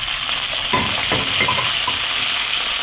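Chopped onion goes into hot oil with fried spices, a loud close sizzle with a few stirring scrapes over a continuous hiss.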